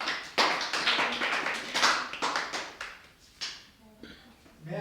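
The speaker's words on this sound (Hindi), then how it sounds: "बस, ताली बजाओ।" Children clap their hands in a quick, irregular burst of sharp slaps, close and fairly loud, with a couple of later claps as the group settles after reciting a rhyme in a classroom activity.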